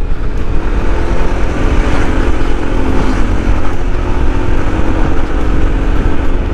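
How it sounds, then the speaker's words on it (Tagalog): A motorcycle engine labouring up a steep, rocky mountain road on Marilaque, a loud, constant rough drone with heavy rumble close to the rider and no pauses. "Grabe, parang hirap na hirap yung motor dito."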